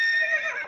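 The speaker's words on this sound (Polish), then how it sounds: "I tutaj zobaczcie, dodał się dźwięk konia." A horse neigh sound effect, added as a sprite sound in a Makey Makey Scratch project, plays as one short, bright whinny with a wavering pitch, clear and close with no talk over it.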